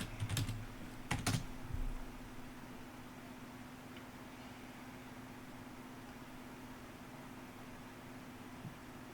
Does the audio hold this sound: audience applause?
no